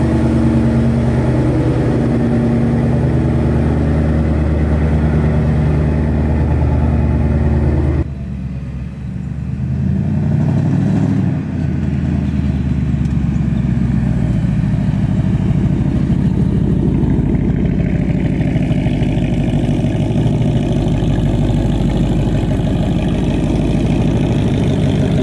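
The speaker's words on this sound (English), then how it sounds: "That's the sound of a big block right there" A Ford Cobra Jet big block V8 idles loud and close with a deep, steady rumble, dipping briefly partway through before settling back into a lopey idle that continues to the end.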